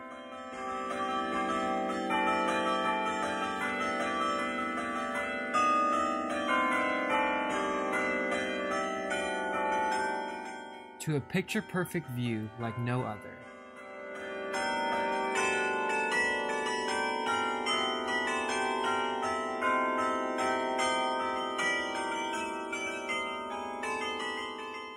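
Carillon bells in a historic tower ring out loud and sustained, many overlapping tuned tones forming a continuous melody, briefly broken by a short spoken passage before the pealing resumes.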